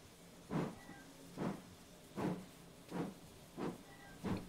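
A steam train moving off, giving six evenly spaced soft chuffs of exhaust steam at a slow, steady rhythm. The sound is faint and distant, with no talk.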